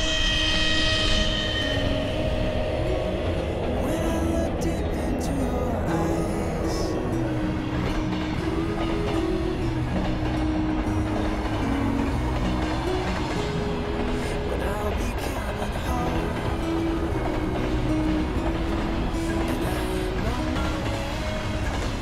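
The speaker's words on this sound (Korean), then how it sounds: "이제 곧 있으면 또 기차가 하나 오는데 조금 멀리서나마 한번 찍어보겠습니다." A Trans-Siberian Railway train passes on the track in Siberia, filmed from a little way off: a steady, loud rumbling roar with sustained mechanical tones that holds throughout, with no voices.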